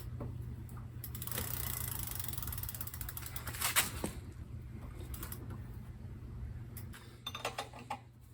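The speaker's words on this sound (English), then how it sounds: "just gotta tighten the wheel back up" A ratchet tightens the wheel back onto a Radmini 2 electric bike, giving faint, close clicking bursts over a steady low hum, with a quick flurry of clicks near the end.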